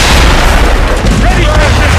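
Ship cannons fire in an Assassin's Creed Rogue naval battle, heavy booming blasts that fill the mix, with voices shouting over them.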